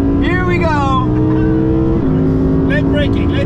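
A 2023 Audi R8 GT's naturally aspirated 620-horsepower V10 pulls hard on track, its loud, steady engine note climbing through a gear with a quick shift midway, while a person talks over it.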